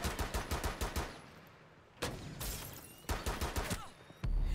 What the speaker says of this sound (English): I hear some guys shooting at me.